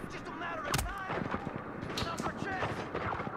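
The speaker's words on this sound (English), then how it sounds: "Guys, we're getting shot at." Gunfire in The Division, sharp shots cracking over a busy firefight with one strong close report near the start and more scattered hits after, while players talk over the action.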